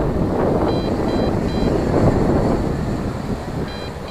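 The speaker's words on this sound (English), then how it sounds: "it's just super windy right now" Strong gusty wind buffets the microphone with a heavy, continuous low roar outdoors on a sunny day during a drone flight, with faint high beeps now and then.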